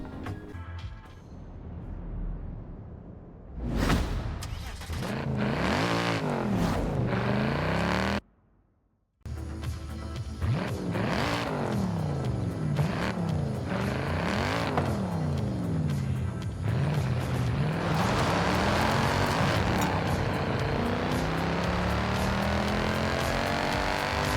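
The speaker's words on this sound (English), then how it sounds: "Easily one of the best supercharged V8 notes in Forza Horizon so far." The supercharged V8 of a 2006 Mercedes E55 AMG wagon in Forza Horizon 5 revs hard through repeated rising and falling sweeps, loud and close. A brief cut to silence midway is followed by sustained full-throttle acceleration.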